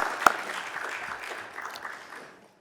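Church congregation applause during a Sunday afternoon service, a brief burst of clapping from many hands that fades out after a couple of seconds.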